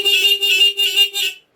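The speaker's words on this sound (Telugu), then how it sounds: "హార్న్స్ మోగిస్తా చూడండి" Extra horns fitted to a Honda Unicorn motorcycle blare in a bright, steady two-tone tone, pulsing in several quick bursts close to the microphone before cutting off abruptly.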